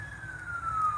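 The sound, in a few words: sirens near a campsite by the road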